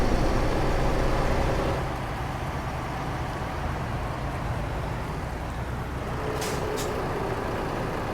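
Truck air brakes in the American Truck Simulator video game, set during a snowy Christmas drive: a low, steady engine drone with a broad airy hiss that eases off partway through.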